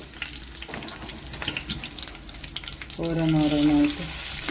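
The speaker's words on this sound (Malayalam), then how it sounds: "ഒരു പാനിൽ എണ്ണ ഒഴിച്ച് കുറച്ച് കറിവേപ്പില ഇട്ട്" Curry leaves crackle and sizzle as they drop into hot oil in a pan, a steady busy frying hiss with a brief tonal squeak midway, fairly close and moderately loud.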